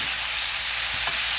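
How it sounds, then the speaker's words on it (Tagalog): Vegetables, including pechay, sizzle steadily in a hot pan with a soft scrape as they are stirred, a close, continuous frying hiss with no voices. "Mix it."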